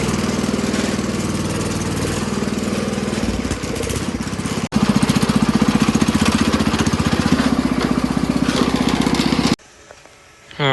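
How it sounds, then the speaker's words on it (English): A leaking, worn Wheel Horse lawn tractor engine runs loud and near with a rapid, choppy putter, briefly dipping and surging before it is cut off abruptly, leaving near silence. "This is the last time this engine will run with it not being rebuilt."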